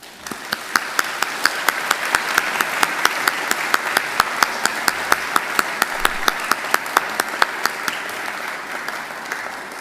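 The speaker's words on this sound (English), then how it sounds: "give them a hearty round of applause" A graduation ceremony audience at Macquarie applauds for about ten seconds, a dense, steady wash of many hands clapping in a large hall, with some sharper individual claps standing out above the crowd.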